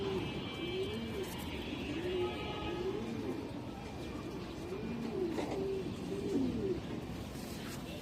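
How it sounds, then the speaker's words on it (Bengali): An old battle-line pigeon coos up close in repeated rolling phrases, several in a row, over a low background hum; other birds chirp faintly at times. "কবুতরের ডাক দেখেন"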